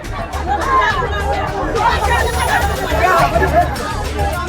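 A dense crowd of protesters blocking a road, many voices overlapping into a loud, continuous hubbub of agitated chatter with no single speaker standing out.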